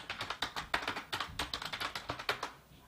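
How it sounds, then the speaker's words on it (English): A search typed on a computer keyboard, rapid close clicking keystrokes in an uneven burst that runs for a few seconds with no talking. "What if I just type in Jaclyn Hill?"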